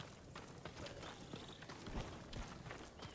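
Horse hooves clip-clop at a steady trotting rhythm in the video game Ghost of Tsushima, close and moderately loud over a busy ambient game soundscape.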